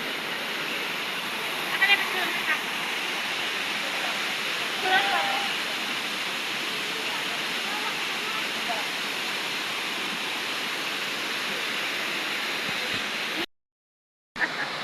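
A waterfall in Taif, Saudi Arabia pours with a constant broadband rush, steady and fairly close, with a few faint voices briefly over it and a short drop to silence near the end.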